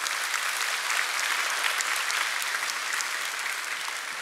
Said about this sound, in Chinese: 我们给上帝一个最大的掌声。